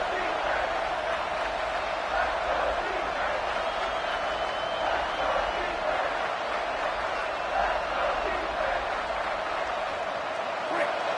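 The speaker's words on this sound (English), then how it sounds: "This crowd knows this defense needs them right now." Steady roar of a stadium crowd in a football video game, a dense, continuous wash of cheering that holds at an even level throughout, with no clear breaks.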